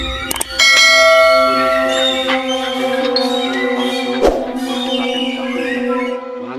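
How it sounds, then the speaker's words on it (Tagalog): A loud, close bell sound effect for a notification rings out with a bright metallic strike and long sustained tonal ringing that slowly decays, with a second strike partway through. "Ito yung notification bell."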